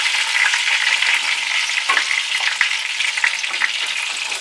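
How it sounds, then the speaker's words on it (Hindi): Chicken for Jamaican brown stew shallow-fries in oil with a loud, dense, continuous sizzle close by, broken by occasional small crackles and pops. "ये अच्छे से बन चुका है हमारा चिकन, शैलो फ्राई हो चुका है"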